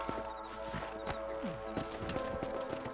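A horse in the video game Red Dead Redemption clip-clops at a walking pace, each hoofbeat a close, distinct thud at a moderate level, with no talk over it.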